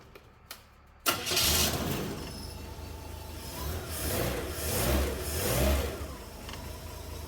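A TH400 automatic transmission on a transmission dyno fires up with a sharp start, then runs at a steady, loud mechanical drone with slow swells in level, with no talk over it.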